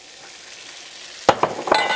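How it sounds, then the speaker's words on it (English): Rice hits hot oil in a skillet over high heat, giving a faint steady sizzle and then a few sharp scraping, stirring clatters toward the end. "over high heat, add the oil to the skillet. Saute rice for 1 to 2 minutes."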